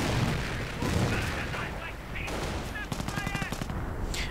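Heavy machine gun bursts and rifle grenade fire in a World War II strategy game battle, rapid clattering volleys with booms, fairly loud and continuous, mixed with other battlefield noise.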